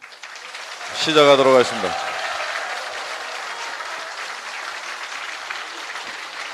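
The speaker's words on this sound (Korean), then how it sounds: "우리 여기 서 계시는 분들께 큰 박수로 환영을 하고" A brief spoken phrase gives way to sustained applause from an audience at a meeting opposing the THAAD deployment in Seongju, Korea, a broad wash of clapping that stays even and moderately loud to the end.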